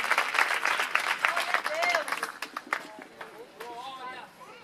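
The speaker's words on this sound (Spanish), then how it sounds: "Dale un fuerte aplauso." A church congregation claps in a dense, sustained burst of applause that gradually thins and fades, with voices calling out and talking over it.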